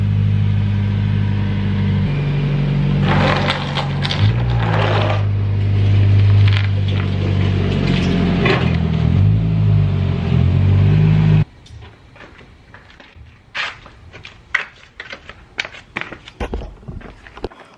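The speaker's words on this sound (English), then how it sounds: "I'm gonna go ahead and pull the car in." A car pulling into a home driveway at night, a loud low engine rumble with crunching and knocking for about eleven seconds, then the engine cuts and scattered clicks and shuffling noises follow.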